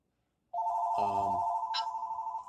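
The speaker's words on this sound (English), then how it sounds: "I think my phone's going off." Mobile phone ringtone starting abruptly and holding a steady pulsing electronic tone, close and fairly loud, with a brief low thump partway through.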